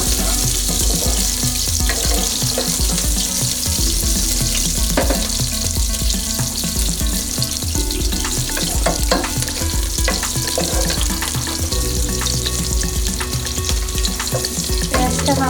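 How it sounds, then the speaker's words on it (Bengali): A small chopped onion fries in hot oil in a pot for biryani, giving a constant loud sizzle with frequent stirring scrapes and clinks throughout, and no voices. "এবার দিয়ে দেব একটা পেঁয়াজ। বেশি পেঁয়াজ দেবো না, আমি ছোটো একটা পেঁয়াজ কেটে দিয়েছি।"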